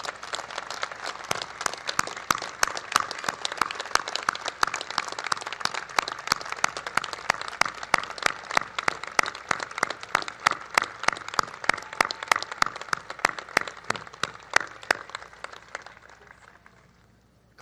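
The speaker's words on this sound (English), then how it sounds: "Please give them a big round of applause." Outdoor crowd at a Coast Guard Academy commencement claps loudly with sharp, distinct hand claps over a broad applause wash, building, holding for about fifteen seconds, then tapering off quickly into quiet.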